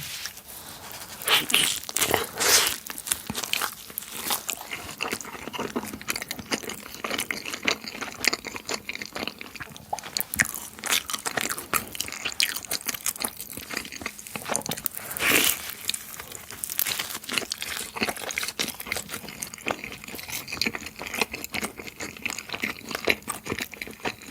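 Crisp crunching and crackly biting of wood-fired margherita pizza crust, with dense close-up chewing and crinkly textures running steadily throughout, no talking.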